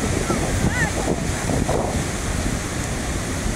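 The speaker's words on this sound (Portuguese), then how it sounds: "mar aí da Praia dos Ingleses" Steady ocean surf at Praia dos Ingleses beach in Florianópolis on a sunny afternoon, a continuous broadband wash of waves mixed with wind noise on the microphone, with a faint bird-like chirp early on.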